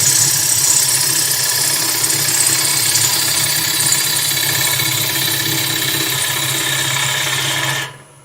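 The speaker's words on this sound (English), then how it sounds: "you can see I'm cutting away quite a lot of wood" Wood gouge cutting into a spinning workpiece on a lathe, using the full wing to shape a curve: a loud, steady whirring hiss that carries on without a break, then cuts off abruptly at the end.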